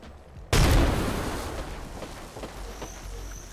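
A grenade explodes in the video game Apex Legends, a sudden loud close boom that cuts in from near silence and then rumbles and decays over several seconds.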